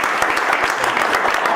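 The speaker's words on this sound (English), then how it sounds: "Can we give a round of applause for this guy?" An audience at a sales-leadership talk in Brooklyn breaks into a steady round of applause for a guest speaker, loud, close and continuous throughout.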